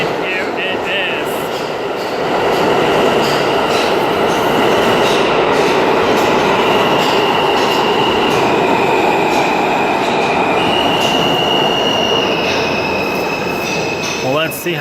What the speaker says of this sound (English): Here it comes, Queensbound F right now.